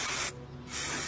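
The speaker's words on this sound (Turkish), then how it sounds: "Balata spreyi uçucu olduğu için bunu rahatlıkla kullanabilirsiniz." Brake cleaner sprays from an aerosol can onto a car heater fan motor in two loud, close hissing bursts separated by a short pause.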